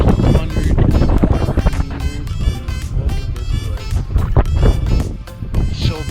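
Strong wind buffets the microphone at a mountain summit on the Route des Alpes, a loud, constant roaring rush that gusts and swells near the mic.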